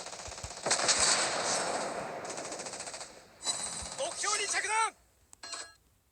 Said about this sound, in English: here comes the aircraft